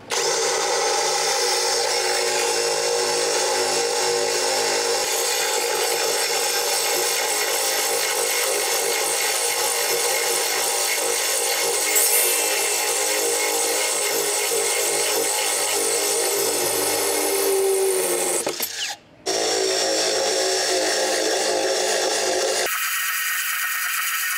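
A power drill spins a dry-cut bit boring into porcelain tile with a loud, continuous high grinding whine. The tone shifts briefly near the end, then the drill keeps running.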